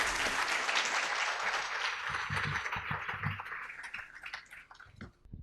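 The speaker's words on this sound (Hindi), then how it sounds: "आप ज़ोरदार तालियों से उनका स्वागत करें" A crowd applauds warmly at a Hindi poetry event, dense clapping that gradually thins and fades out over several seconds, with a few voices murmuring underneath.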